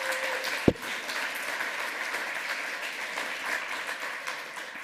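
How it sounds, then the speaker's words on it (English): A conference audience at 28c3 bursts into sustained applause, a broad dense crackle of many hands clapping that holds steady, with one sharp thump near the start. "One last round of applause, guys."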